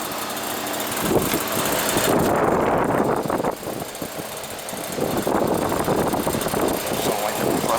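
A central AC outdoor unit runs with its compressor on, a steady loud mechanical hum and drone that carries through the whole stretch without pause.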